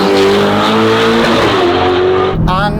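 Novitec-tuned 704 hp Ferrari Roma with an aftermarket performance exhaust, accelerating hard close by in one loud rising howl that climbs through the revs, then breaks off at a brief upshift.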